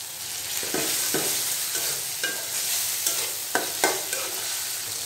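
Chopped tomato and green chilies sizzle in a pan of spiced masala for a rupchanda fish curry. A steady, close frying hiss runs throughout, broken by repeated scraping stirs.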